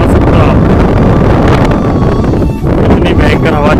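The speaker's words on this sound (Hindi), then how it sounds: "इतनी भयंकर हवा चल रही है" Strong wind roars steadily into the microphone with heavy buffeting through the clip, loud and continuous, recorded outdoors near trees during a ride on a Royal Enfield Meteor 350 motorcycle.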